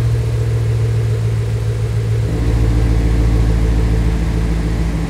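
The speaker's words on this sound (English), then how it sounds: "I definitely want to put the sound side by side between the stock exhaust system and this Corsa double Helix" A Ford Mustang GT350 with a Corsa Double Helix X-pipe exhaust idles with its valves open, giving a loud, steady, deep rumble whose low tone shifts and thickens partway through, with no voices.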